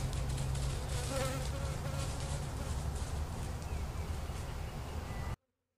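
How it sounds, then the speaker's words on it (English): Dense, steady buzzing of many honeybees close by in a bee yard, a continuous droning swarm that fills the whole recording before cutting off abruptly. "All right, scouts and field bees."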